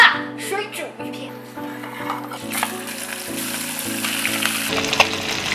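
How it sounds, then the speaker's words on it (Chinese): Fish slices marinated with salt, oyster sauce, cooking wine and egg white pan-frying in oil, a sizzle that builds under background music. "鱼肉煎成这样焦黄的样子就差不多了"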